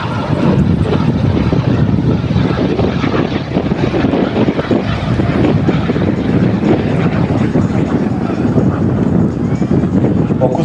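An RC model F-104 Starfighter jet flies at a jet show in the Czech Republic, a loud continuous roar with steady turbine rush and wind noise across the whole stretch.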